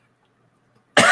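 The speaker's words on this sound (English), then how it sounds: "Still got that lingering cough. I can't get rid of it." One sharp, loud cough bursts out close to the microphone at the very end, after near silence, from a person with a lingering cough.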